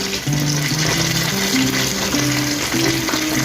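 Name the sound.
dumplings frying in a pan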